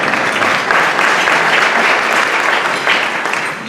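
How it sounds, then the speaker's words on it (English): Steady, dense applause from a crowd at a Black History Awards keynote luncheon fills the whole stretch at an even, loud level with no pauses. "Oh, you can clap."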